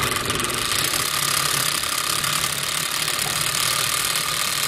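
A Siruba flatlock sewing machine with a power fault starts up and runs with a steady, continuous motor hum and dense mechanical clatter, close and loud, with no voices over it.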